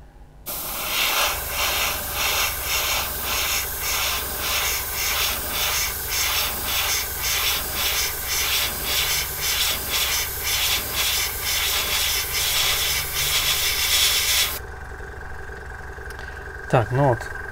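Airbrush spraying metallic paint onto a scale model, a loud continuous hiss pulsing slightly as the trigger is worked, then cutting off near the end, followed by a short faint sound.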